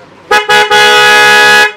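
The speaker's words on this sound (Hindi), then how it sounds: "ये आपके स्कोडा वाला हॉर्न जो कि इसके अंदर लगा दिए गए हैं।" A Skoda car horn fitted to a TVS Star Sport motorcycle blares very loud and close, two short toots followed by one long sustained honk with a bright, buzzy tone.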